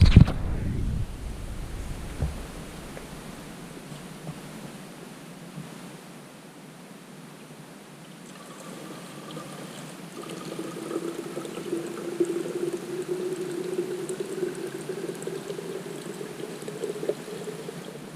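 Water pours into a portable water storage container with handles, filled from a creek on a kayaking trip: a steady rushing gush that dips and then swells into a louder trickling, close by, with no talking over it.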